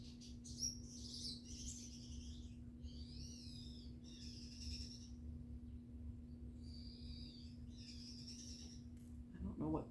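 A small pet finch sings indoors in repeated bright, high chirping phrases, with a steady electrical hum and quiet room noise beneath, and a brief louder sound at the end.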